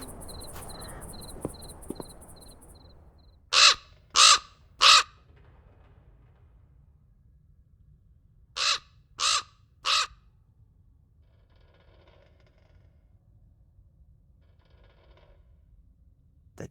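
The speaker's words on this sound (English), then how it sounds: "The damn bird again." A crow caws in the video game The Black Mirror 2, two sharp sets of three loud, evenly spaced caws separated by a pause, over quiet cricket-like ambience.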